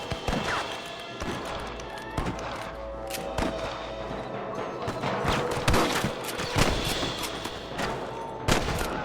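Gunfire rings out in a Red Dead Redemption shootout with cattle rustlers, a rapid run of sharp shots at varying distances layered over a busy game soundscape.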